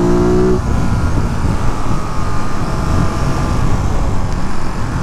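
Steady road traffic passes near a Ducati motorcycle rider in Ellenville, a loud continuous engine and tyre roar with a brief low hum at the start.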